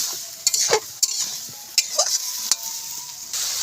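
Masala with sugar and salt stir-fried in a pan on a home stove, with a steady sizzle broken by several sharp scrapes and clacks of the spatula against the pan.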